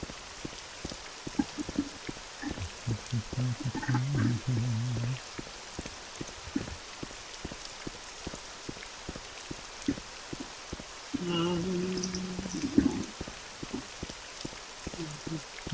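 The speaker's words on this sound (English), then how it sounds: "Is it raining for you?" Rain falls in Morrowind as a steady patter of many small drops, with regular ticking taps throughout and two short tonal hums rising over it. Medium loudness, with no speech.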